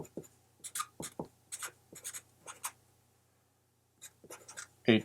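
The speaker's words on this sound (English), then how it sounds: "I'm going to write this down as" Pen or pencil scratches across paper while notes are written by hand, a series of short close strokes with a quiet pause in the middle, then a few more strokes and a final louder scratch.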